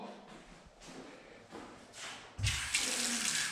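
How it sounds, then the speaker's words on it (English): Water from an outdoor campground tap: a few soft bumps and faint trickles, then a sudden steady, loud gush of running water that continues to the end. "We got running water."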